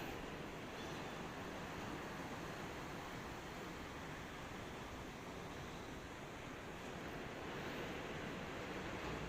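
Steady rushing wind during a typhoon with a continuous roar of surf underneath, broadband and even throughout, no voices.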